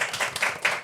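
Clapping from a small group at a live-streamed event show, several quick hand claps in loose rhythm, moderately close and lasting under a second with no talk over it.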